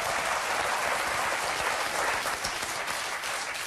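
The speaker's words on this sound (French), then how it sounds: "Là, on peut applaudir." A TV quiz show studio audience bursts into steady, dense applause, loud and sustained, with no talking over it.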